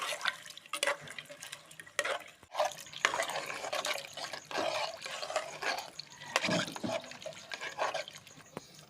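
Stirring chopped pav bhaji vegetables with turmeric and salt in a pressure cooker: irregular wet scraping and squelching strokes of a spoon, close and moderately loud, with short pauses between movements.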